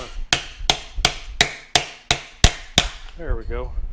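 A hammer strikes a wheel spacer on a Suzuki TS250 front wheel: eight sharp, evenly spaced metallic blows land close and loud, followed by a brief voice at the end.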